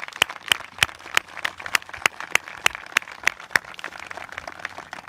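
Applause at a search-and-rescue dog team pairing ceremony, heard as a run of sharp, evenly spaced claps about three per second that stops after roughly three and a half seconds, close and clear with no talking.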